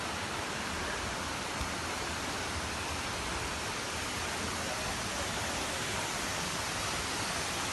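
Deojhar waterfall pours in a steady, dense roar that fills the whole span without a break, loud and close with no voices over it.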